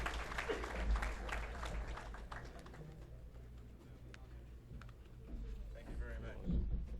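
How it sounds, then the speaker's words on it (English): Applause from an audience welcoming Rabbi Barry Silver at an interfaith Eid feast, loudest early on, dipping in the middle and swelling again near the end, with murmuring voices underneath. "Everybody, please give a warm hand of applause for Rabbi Silver."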